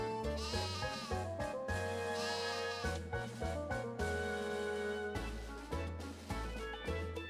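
Sheep bleat in the Final Fantasy III video game, a wavering cry layered over steady chiptune background music with bouncing bass notes. The music stays loud and continuous throughout, with no voices.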